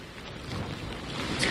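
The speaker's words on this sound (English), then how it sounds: "we're starting to feel those gusts from the outer bands that Frank was talking about finally hitting" Strong wind gusts from Hurricane Laura's outer bands near Lake Charles roar steadily into the microphone, a broad rushing buffet that builds slightly toward the end, with no voices.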